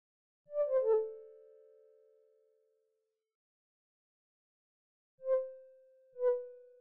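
An OB-X style synthesizer plays the dry BD4 Funky Keys preset with no effects: a short stabbed chord that decays over about two seconds, then two separate plucked notes after silence.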